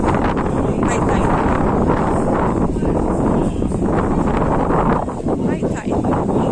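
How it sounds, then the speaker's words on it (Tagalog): Strong wind buffeting the microphone on a Hong Kong waterfront at high tide after Super Typhoon Saola, with rough sea churning beneath; a loud, continuous roar with brief dips and a voice speaking over it. "Mahangin, maalon ngayon."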